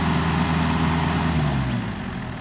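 A Kubota excavator's heavy diesel engine rumbles loudly, then its pitch and volume drop as the throttle is turned down near the end.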